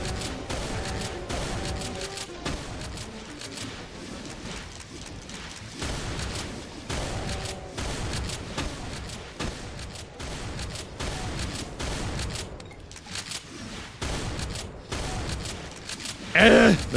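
Gunfire in the first-person shooter game Doom, rapid shots and bursts crackling steadily for a long stretch, dense and loud, mixed with game mechanisms and someone talking over the action.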